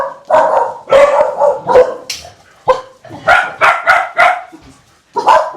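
Dogs at a shelter-like home with about 25 dogs bark repeatedly in loud, close bursts, sharp barks and yips tumbling over one another with short gaps, no talk.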